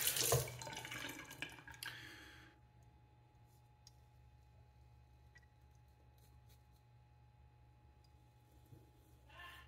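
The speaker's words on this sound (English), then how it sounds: "Rinse out the sink just a little bit." Water runs from a tap while a sink is rinsed out after a wet shave, a loud splashing gush for about two seconds, then quiet room hiss with faint clicks and a brief burst near the end.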